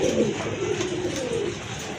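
A very active pair of King pigeons coos nearby, a low warbling call rising and fading over a couple of seconds, fairly loud and unaccompanied.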